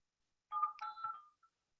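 A short burst of electronic telephone keypad tones, a few quick beeps clustered together before falling silent, fairly faint against an otherwise quiet background.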